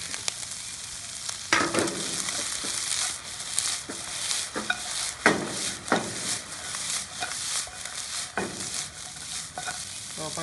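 Onion and garlic stir-fried in a pan for a shrimp curry: a steady sizzle with repeated scraping strokes of a spatula at an uneven rhythm, close and fairly loud, with no voices.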